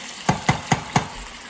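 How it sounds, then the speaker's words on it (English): Mussels dropped into a pan of frying garlic and chili: four quick, evenly spaced clattering knocks over a steady background sizzle, close and clear. "So I'm going to go in now with my mussels straight into the pan."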